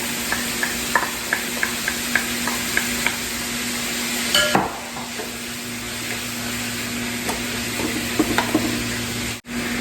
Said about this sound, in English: now we're going to go ahead and put our onion in so we can get that cooked.